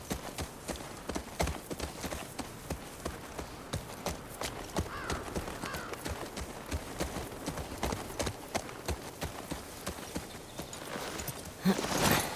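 A mare's hooves clip-clop steadily in The Last of Us Part II, a continuous rhythmic walking beat over outdoor game ambience with no talking.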